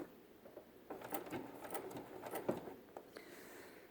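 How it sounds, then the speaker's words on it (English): A BERNINA sewing machine fitted with a binder attachment takes a stitch forward and a stitch back. It makes a few quiet, uneven bursts of needle clatter, faint and alone. "I'll take one stitch forward, one stitch back."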